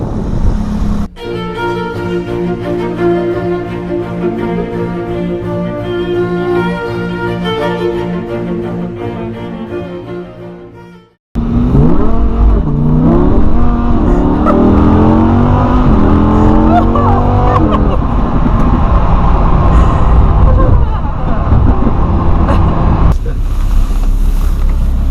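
A Lamborghini on a snowy day holds a loud, steady high engine note up close, cuts out abruptly, then roars back with rising and falling revs, while people talk now and then.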